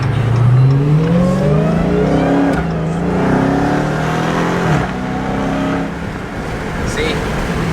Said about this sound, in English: Let me ease into this 0 to 60 here.